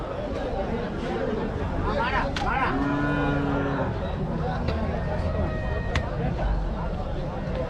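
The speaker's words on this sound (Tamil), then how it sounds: "கண்ணுக்குட்டி வந்து இப்போ தான் இறக்கிட்டு இருக்காங்க" Calves of a native breed lowing at a country cattle fair while being unloaded, one drawn-out moo standing out over busy crowd chatter and market hubbub.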